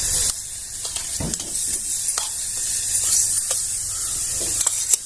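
Grated fresh coconut stirred into melted jaggery in a pan while cooking a sweet filling for gul khobra poli, giving a steady soft sizzle and hiss with scraping stirring strokes throughout, close and alone.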